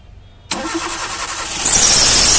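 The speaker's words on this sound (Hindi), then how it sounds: "दिखाते हैं आपको स्टार्ट करके गाड़ी" A Maruti Wagon R petrol engine, just decarbonized, cranks and fires up abruptly, then settles into a loud steady idle that rises slightly near the end; close and clear with no talking.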